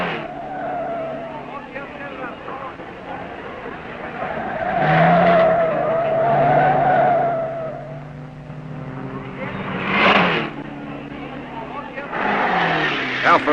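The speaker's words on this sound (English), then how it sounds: "Two Buicks in a speed clash." Buick race cars speeding and skidding during the 1954 Carrera Panamericana road race in Mexico, engines roaring with rising and falling tire squeals, passing loudly beneath a narrator's voice on an old film soundtrack.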